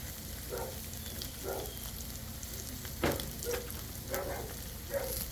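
Onions and chives sizzle under a dome on a Blackstone griddle, a steady soft frying hiss broken by several short louder crackles and spits, with no voices.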